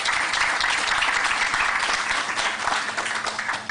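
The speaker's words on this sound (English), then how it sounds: "Please give them a round of applause." Audience applause at a youth development convention, a dense, steady round of clapping from a large crowd that holds loud throughout and tapers slightly at the end.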